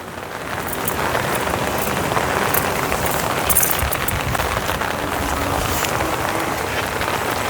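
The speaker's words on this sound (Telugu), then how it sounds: "4 రోజుల నుంచి వర్షం తగ్గట్లేదు." Heavy rain pours steadily onto a terrace garden, a dense continuous hiss with a few sharper splashes of drops, loud and unbroken.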